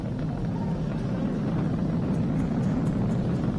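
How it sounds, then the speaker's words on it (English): Falcon 9 rocket engines roaring during ascent as they throttle back up to full power past maximum dynamic pressure, a steady, distant, broadband rumble with no break across the whole stretch. "We're throttling back up to full power as we're through max"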